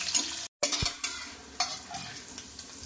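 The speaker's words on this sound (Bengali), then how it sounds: "পেঁয়াজ বেরেস্তার তেলেই আলুটা ভেজে নেব।" Peeled, boiled potatoes fry for biryani in oil left from frying onions, giving a quiet, steady sizzle broken by stirring scrapes and a few sharp clinks of a utensil against the pan.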